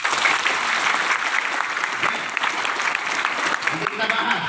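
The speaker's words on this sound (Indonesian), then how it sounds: "Tepuk tangan yang kencang." Loud, dense applause from an audience at a motivational seminar, steady clapping filling the whole stretch with a murmur of voices underneath.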